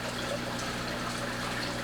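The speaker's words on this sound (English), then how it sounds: "with the Python system it just pumps water straight from my tap to the aquarium" Tap water rushes through a Python hose system into a home aquarium, a steady, even wash of flowing water that keeps on without a break, fairly quiet and close, with no talking.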